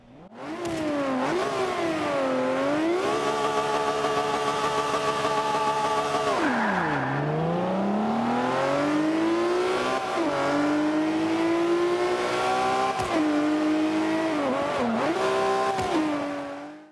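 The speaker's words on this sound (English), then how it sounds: "I'm going to let you guys listen in on the engine noise" A 2008 Lamborghini Reventon in Forza Motorsport 5 on the Silverstone full circuit, its engine revving up through the gears with rising pitch sweeps, sharp drops at shifts and a brief tire squeal, loud and continuous with no talk.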